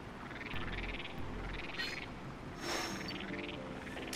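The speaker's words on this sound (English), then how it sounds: "There's a toxic croak." Croagunk croaks faintly in a cave in the Pokemon Snap video game, giving a few low, throaty calls over a quiet ambient background.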